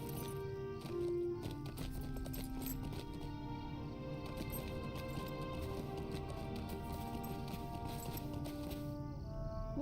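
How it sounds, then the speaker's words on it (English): Horses clip-clop in a video game, a faint run of rhythmic hoof taps layered under game music with sustained tones and plucked notes. "Oh, wait, aren't there horses somewhere?"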